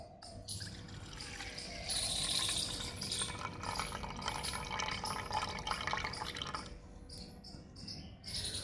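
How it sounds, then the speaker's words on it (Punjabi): Washing water drained off rice during preparation for a Punjabi rice dish: a steady, close trickling and pouring runs for several seconds with splashy high hiss, nobody speaking. "ਆਹ ਜਿਹੜਾ ਪਾਣੀ ਆਪਾਂ ਇਹ ਕੱਢ ਦਿਆਂਗੇ"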